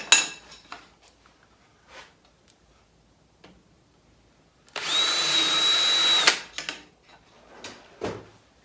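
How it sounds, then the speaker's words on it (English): Scattered taps and clicks, then a single power drill burst of about a second and a half drilling a hole while building a circular blade sharpener, followed by more handling knocks. "I'll drill these out and countersink them."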